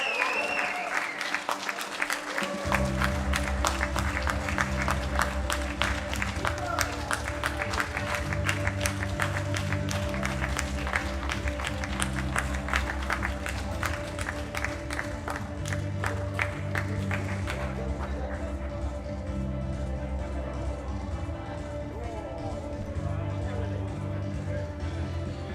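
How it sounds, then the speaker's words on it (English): Audience applause at the 2021 World Classic Powerlifting Championships, steady rapid clapping carrying on throughout under loud background music with a repeating pulse. "give them a round of applause as they leave the platform"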